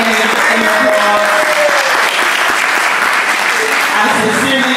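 Applause fills a room at an evening foundation event as the audience claps continuously at close range, with voices and cheers mixed into the clapping throughout.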